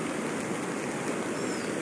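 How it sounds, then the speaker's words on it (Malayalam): A flooded river rushes over its banks in Wayanad after a landslide, a dense, steady roar of turbulent water that stays loud and unbroken throughout. "പിന്നെ പുഴ കര കവിഞ്ഞ് ഒഴുകുന്നതാണിത്"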